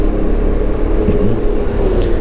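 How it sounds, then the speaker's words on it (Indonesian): A Yamaha X-Max 250 scooter's engine runs close by with a smooth, muted, steady low rumble and slight revving, heard over the rider's ride on a mountain road. "X-Max ini teman-teman, dibanding Yamaha NMAX itu suaranya halus"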